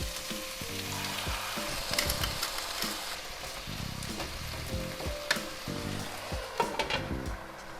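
Meat with soy sauce and pepper stir-frying in a hot pan, a steady loud sizzle broken by repeated scraping strokes of a wooden utensil, no voice over it.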